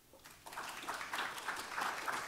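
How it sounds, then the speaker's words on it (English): Conference audience at a tech week event claps to welcome a panel onto the stage, applause swelling after a soft start and continuing in a steady patter, somewhat distant. "please give them a round of applause as we welcome them to the stage."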